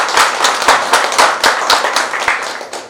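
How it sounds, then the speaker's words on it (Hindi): A crowd at an investor meeting for a real estate project claps briskly in loud, close, fairly quick rhythmic bursts that keep up throughout, with no talking over it. "अपने आप के लिए, खुद के लिए एक ताली जोरदार बजाएं।"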